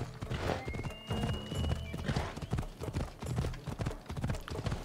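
A horse in the video game Assassin's Creed Odyssey gallops with steady rapid hoofbeats, loud and close, and whinnies partway through over ambient game sound.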